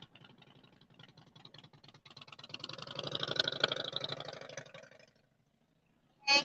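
A motorcycle idles on a busy main street at Sturgis, a steady low rumble that swells and fades over a few seconds, moderately distant, with a brief sharp noise at the end.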